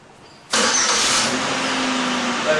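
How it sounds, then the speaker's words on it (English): A 2003 car's engine cranks and catches abruptly after an oil change, then settles into a steady, close, loud idle with a faint whine, no voices present. "Now that's how a proper car should sound."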